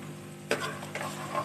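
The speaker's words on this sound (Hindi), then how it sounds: "हम इस लहसुन को थोड़ी देर पकाएंगे" Garlic frying in a pan gives a close, steady sizzle with a couple of brief stirring scrapes over the hiss.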